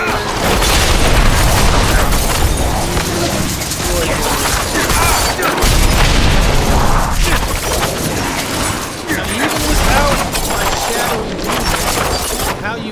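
Enemies bursting into chained explosions while fighting in Diablo IV, a dense, continuous barrage of booms and crashing blasts layered over game music and effects, with a voice talking throughout.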